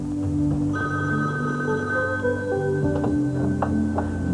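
Telephone rings in a 1980s TV commercial for a drug and alcohol dependency service, a steady repeating electronic ring heard over a background music bed.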